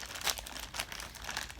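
Plastic soap package torn open by hand, quiet crinkling and several sharp tearing rips in irregular bursts, close to the microphone with no talking.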